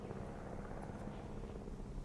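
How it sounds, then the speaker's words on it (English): Steady rotor drone of a helicopter circling over dinosaurs in the game Jurassic World Evolution, a continuous low hum that stays even throughout without any voices. "there's the helicopter circling some dinosaurs right now"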